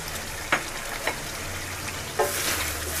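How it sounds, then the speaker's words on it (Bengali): Beef with garlic stirring in a frying pan, a steady sizzle underneath and three sharp utensil scrapes against the pan, the last leading into louder, brighter frying. "একটু ভালোভাবে নেড়ে চেড়ে দিচ্ছি।"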